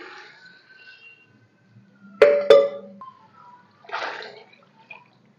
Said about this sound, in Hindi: साथ में इसके अंदर पानी डाल दूंगी।